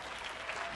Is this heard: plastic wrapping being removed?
no